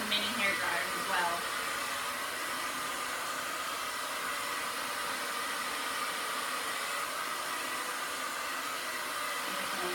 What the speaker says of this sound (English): we're going to come down, blow dry it